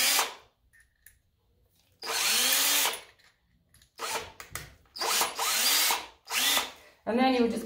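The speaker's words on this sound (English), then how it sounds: "Then you just switch your drill bit out and put your Phillips screw" A power drill drives Phillips screws in several short bursts, each a sharp rising whir that stops abruptly, separated by brief pauses.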